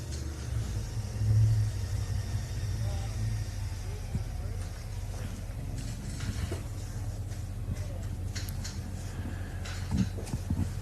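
Off-road race trucks rumble at the Loveday 4x4 Adventure Park during the Loveday 400, a steady low engine drone from nearby vehicles with occasional revving, under commentary.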